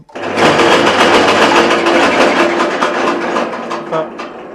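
A fodder chaff cutter with a turning wheel runs steadily close by, a loud continuous mechanical whir with a rhythmic chopping clatter and a faint hum underneath.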